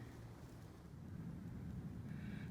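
Wind blowing outdoors at a shooting range, buffeting the microphone as a low, rumbling roar that swells slightly toward the end, steady and fairly quiet with no voices.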